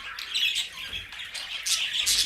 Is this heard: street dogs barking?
no